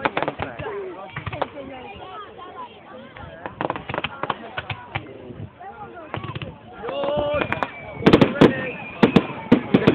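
A 50-shot firework cake goes off outdoors at Twin Lakes, a long run of crackling pops and bangs that builds into louder, denser bursts toward the end, with people talking underneath.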